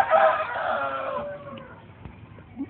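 A rooster's crow rings out at the start, trailing off over a couple of seconds into quiet farmyard sounds with a faint cluck near the end.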